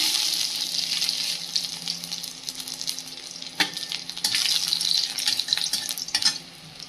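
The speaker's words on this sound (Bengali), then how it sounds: "তেলটা গরম হয়ে গেছে তেলের মধ্যে দিয়ে দেবো রসুন কুচি" Chopped garlic sizzles in hot oil in a pan, a steady close crackling hiss with a sharp pop near the middle and a brief surge as the frying intensifies.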